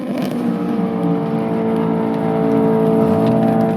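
A Haltech-controlled Mustang drag car at an import versus domestic drag racing finals, a 7-second, 180-mph class machine, roars in a loud, sustained engine drone with strong harmonic tones and no talk over it.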